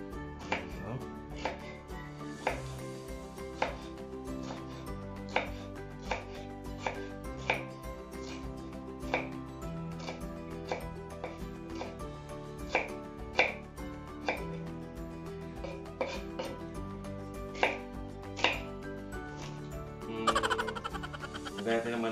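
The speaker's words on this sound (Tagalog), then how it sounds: "gagamitin naman natin ngayon o hiwain ay cheese" Cheese sliced with a knife on a cutting board, a long run of steady, crisp knife taps against the board, fairly close and moderately quiet, with faint speech in the background.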